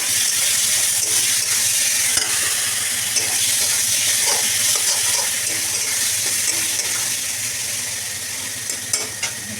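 Kochu lati, marinated taro stolons, sizzle steadily in hot oil with nigella seeds in a kadai, a loud, continuous hiss of frying with occasional stirring clinks, close up and without talk.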